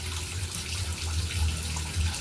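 Tap water from a faucet pours steadily into a basin for soaking laundry, a close, continuous splashing gush with a low rumbling undertone and no talking.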